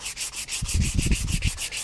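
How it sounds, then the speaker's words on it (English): Sandpaper rubbed by hand along the corners of a wooden bookcase piece, about a dozen quick, even back-and-forth scratchy strokes, close and clear with no voices. "we'll sand all four corners of this just enough to break that sharp edge"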